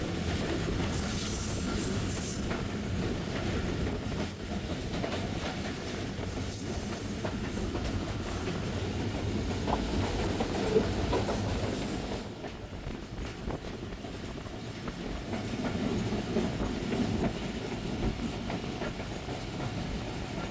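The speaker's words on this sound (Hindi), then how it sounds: "कंटेनर ट्रेन है जो पास हो रही है मेहराबपुर" A container train rolls past near Lakha Road station in Pakistan, a steady rumble and rattle of wagons that holds for about twelve seconds and then drops away, with a softer, more distant rolling continuing afterward.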